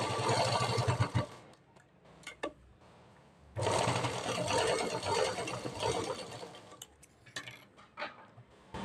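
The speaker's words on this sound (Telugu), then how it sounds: "నేను డైరెక్ట్గా మిషన్ మీద కుడతాను కనుక ఈ సెంటర్లో కుట్టు ఫస్ట్ వేస్తాను" A sewing machine stitches a blouse seam in two long, loud bursts of fast, even whirring, separated by a quiet pause with small clicks and handling noises.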